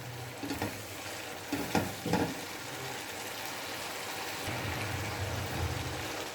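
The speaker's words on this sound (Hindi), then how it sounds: "अभी हमने मसाले को मज़ीद भूनना है।" Masala with freshly cut green chillies frying in a pan for fish curry, a steady sizzle with a few sharp stirring clacks of a spoon near the start.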